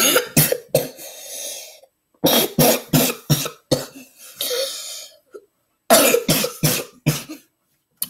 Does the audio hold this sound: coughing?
yes